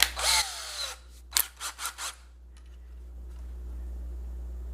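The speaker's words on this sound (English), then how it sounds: "now we can get out the drill, right? And we can start drilling." A handheld power drill runs in a couple of short bursts while starting a 1/16-inch pilot hole, close by and fairly loud, then trails off into quiet room hum.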